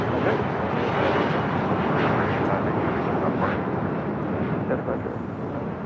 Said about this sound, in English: Embraer Legacy 500, taking off to Henderson Executive Airport